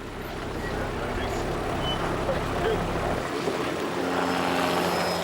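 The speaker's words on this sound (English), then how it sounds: "the helicopter seeks out a female giraffe" A helicopter flies overhead during a wildlife capture of a giraffe in Africa, its steady rotor and engine roar loud and constant throughout, with a faint voice beneath.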